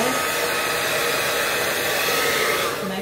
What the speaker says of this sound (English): And then I have my Remington blow dryer. I'm just going to blow dry.